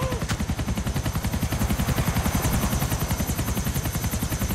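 Helicopter rotor in Grand Theft Auto IV, a loud, steady, rapid chopping pulse that runs throughout, close and dominant with no talk.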